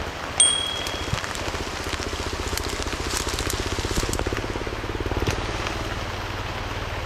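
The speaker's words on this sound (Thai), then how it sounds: "โอ้ยฝนตกจ้า ฝนตกจ้าทำยังไงดี" Steady rain falling outdoors during tea-leaf picking, a dense close patter of drops with scattered louder splats, continuous throughout.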